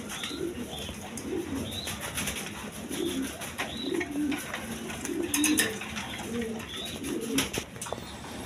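Silver American Fantail pigeons cooing in a repeating, rolling rhythm, several soft coos recurring close by against a steady hum of other birds chirping faintly in the background.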